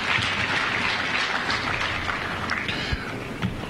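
At a labour migration event in Uganda, an audience claps in a dense, steady patter of applause for the speaker, sustained at an even level with a few louder individual claps near the end.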